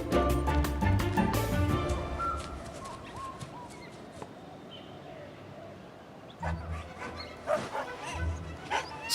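Dingoes in the Australian wild bark, yip and whimper in a busy burst early on, then fainter scattered calls after a lull, at moderate distance.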